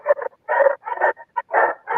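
A puppy at a rescue show makes a run of short whimpering, yipping vocal bursts, close and fairly loud, separated by brief quiet gaps.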